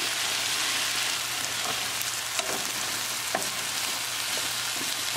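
Taro root and peas sabzi being stirred in a pan, a steady broadband sizzle with soft scraping strokes of the spoon through the vegetables, close and continuous at moderate level.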